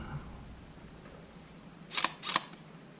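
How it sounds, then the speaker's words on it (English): A faulty Sony A7 II mirrorless camera cycles its shutter, giving two sharp, close mechanical clicks about a third of a second apart against a quiet room hiss. "It does a cycle of the shutter and then gives the camera error message."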